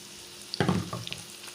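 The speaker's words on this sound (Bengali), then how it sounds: "মাশরুমগুলো 1 থেকে 2 মিনিট আমি একটু ভাজবো" After a moment of near silence, a short burst of sizzling flares up as mushrooms hit a hot pan, then settles to a softer crackle.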